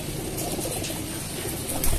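Pigeons, a brown one and a checkered one, coo as they are released during homing training, soft cooing calls over steady outdoor background noise with no talking.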